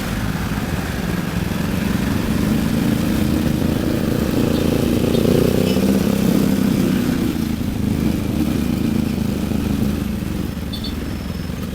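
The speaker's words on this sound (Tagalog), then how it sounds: "Ninja bike." Kawasaki Ninja 500 motorcycle on a road, a steady mid-pitched engine drone that swells slightly as it passes and fades, continuous and fairly close with no talking.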